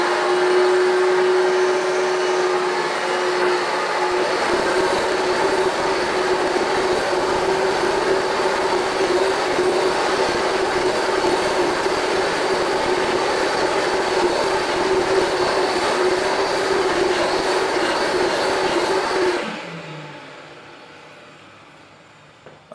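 A Rug Doctor Mighty Pro X3 carpet cleaner runs with a loud, steady motor whine and suction roar for about twenty seconds, then shuts off and winds down to quiet.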